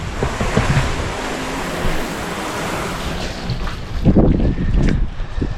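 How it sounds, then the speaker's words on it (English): Water from a garden hose sprays steadily onto a sticky item, a broad rushing hiss that swells louder toward the end, close to the microphone. "So we're gonna see what the water hose will do."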